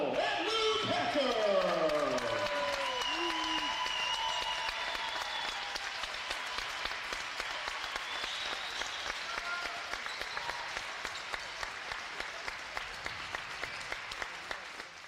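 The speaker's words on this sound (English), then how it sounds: "The big ovation for those two seniors." A crowd at a high school basketball game gives a warm ovation for two senior players, with applause swelling early then thinning, a commentator talking over it and sharp shoe squeaks and ball bounces on the court.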